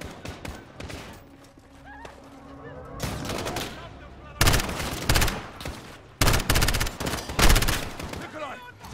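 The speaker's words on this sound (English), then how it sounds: "The gunshot, of course" Gunfire in Call of Duty Modern Warfare: loud bursts of automatic and single shots crackling close by in several clusters, mixed with game ambience and shouted radio chatter.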